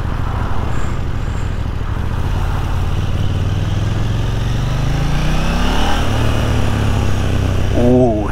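A 2022 KTM 890 Duke GP motorcycle engine revs hard and rises in pitch, loud and close, with a steady throaty rumble beneath.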